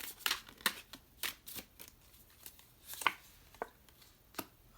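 Tarot cards being shuffled by hand in a series of brisk, irregular riffles and slaps, close and fairly quiet, with no talking.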